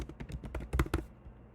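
Quick typing on a computer keyboard, a brief burst of close, distinct key taps that speeds up and then stops, with no talking.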